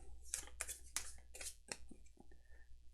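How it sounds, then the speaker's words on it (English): Cards from the Slumber deck of the Etherfields board game being shuffled by hand, heard as a series of crisp, close riffling and flicking bursts in an irregular rhythm. "shuffle the Slumber deck"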